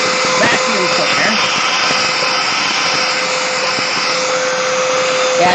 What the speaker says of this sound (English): For the world's weakest vacuum cleaner.